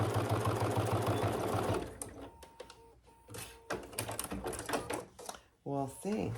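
Sewing machine stitching Theratex fabric with a brand new needle, a steady loud rhythmic whir for about two seconds, then stopping and starting in short noisy bursts while someone talks over it.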